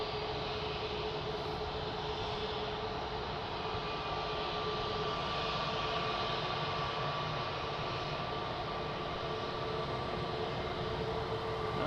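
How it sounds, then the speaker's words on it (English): A TAP Airbus A330 airliner in from Luanda roars steadily at Lisbon Airport, a continuous broad jet-engine rumble holding even and fairly loud throughout, with no talk. "So that was TAP from Luanda. Airbus A330, amazing."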